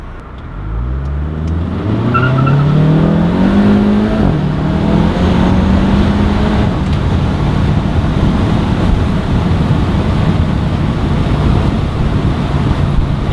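A Volkswagen Mk7 GTI with a resonator-delete exhaust, automatic gearbox, pulls away from a light, its loud engine note climbing through rising revs, then settling into a steady, droning cruise with road and wind noise.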